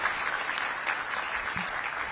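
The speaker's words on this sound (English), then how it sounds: "Give Councilmember McDuffie a big round of applause." Brief audience applause at a mayoral economic development event, a dense burst of clapping that stays at an even level for a couple of seconds.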